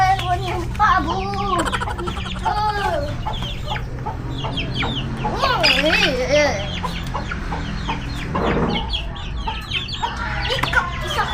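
Turkey gobbling and clucking repeatedly and loudly at close range, excited fowl calls mixed with people talking and reacting throughout while being fed.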